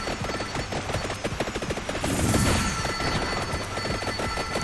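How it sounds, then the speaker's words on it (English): Rune Tracer explosions in the Vampire Survivors video game crackle in a rapid, relentless stream of small pops, like machine-gun fire, with a brief swelling burst midway, loud and continuous with no voices. "Oh, listen to those beautiful explosions."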